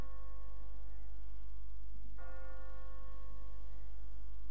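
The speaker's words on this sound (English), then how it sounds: "What kind of church bell goes off at 20 past the hour?" Church bell tolling in The Walking Dead video game, a sustained metallic ring with a fresh strike about halfway through, loud and alone over a low background hum.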